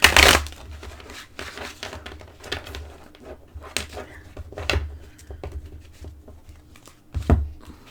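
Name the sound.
shuffling oracle cards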